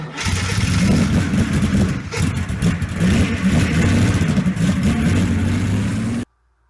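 A 1985 Lincoln Town Car with a 5.0 V8 pulls away under steady acceleration, its low engine drone and rising rumble loud and continuous for about six seconds before cutting off abruptly.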